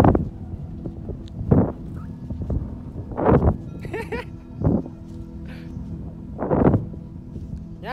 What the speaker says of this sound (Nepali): कस्तो दामी हावा चल्दैछ आज